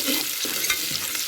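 Onions with a pinch of salt frying in a pan while being stirred, a soft close sizzle broken by a few scraping stirring strokes in a short burst, no voices.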